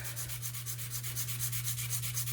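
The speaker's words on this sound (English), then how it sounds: "So first we're going to do is sand the bottom to make it nice and level. I'm using 500 grit wet dry sandpaper." Wet-dry sandpaper of 500 grit rubbed against the bottom of an open-backed bezel, a steady, close, continuous rasping scrub with rhythmic strokes and a constant low hum underneath, no talking.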